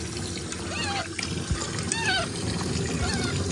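Water splashing and trickling as a pet monkey gets a bath, faint close splashes and pouring under squealing animal calls and occasional talk.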